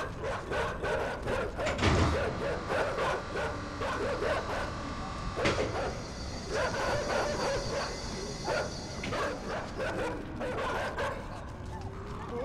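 Dog barks and yips from the video game Inside, a series of sharp, repeated calls at moderate distance over a steady ambient game soundtrack, with brief whimpers between them.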